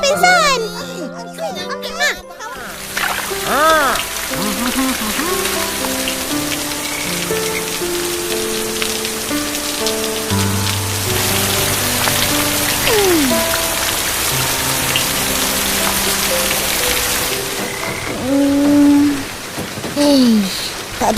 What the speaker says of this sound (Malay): Boleh pula hujan lebat tak berhenti-henti.